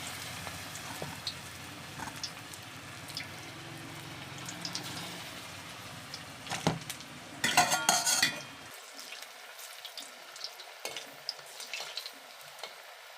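Cabbage pakoras deep-frying in hot oil in a wok, a soft steady sizzle with spatula scrapes and metal clinks, the frying fading out near the end leaving scattered taps.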